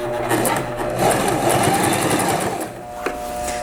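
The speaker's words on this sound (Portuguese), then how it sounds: "vamos abaixar nossa agulha na pontinha e vamos começar a nossa costura bem na pontinha" A sewing machine stitching a seam from the very edge of the fabric, its motor running in a fast, steady whir for a few seconds with a brief dip near the end.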